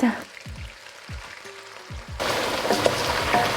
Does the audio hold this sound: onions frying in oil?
yes